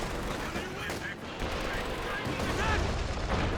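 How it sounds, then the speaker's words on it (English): Infantry support gun barrage in the video game Company of Heroes 2, a dense wash of shell explosions and gunfire rumbling continuously, with a voice speaking faintly underneath. "ISG barraging the mortar."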